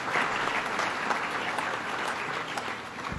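Steady, dense clapping from an audience at an awards event fills the moment, an even wash of applause with no pauses.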